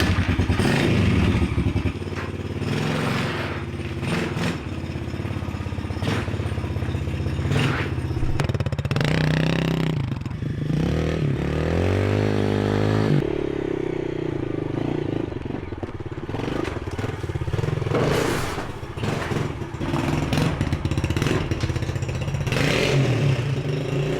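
Motorbike with a cheap diesel engine being ridden, a loud, rough, clattering engine note that revs up and down with thumps and rattles, close and continuous throughout.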